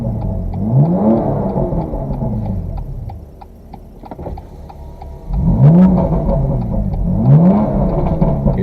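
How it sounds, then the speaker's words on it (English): The exhaust of a BMW M2 Competition in Sport Plus mode revs in three loud, rising blips, each swelling and falling back over a steady close-up engine drone, with a quieter idle between the first rev and the last two. "You should be able to hear that."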